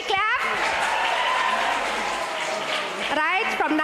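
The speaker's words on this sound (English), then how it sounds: "Can we clap?" Audience clapping at a palliative care talk marking the field's golden jubilee, a dense burst of hands that holds steady for a few seconds, with a speaking voice at the start and end.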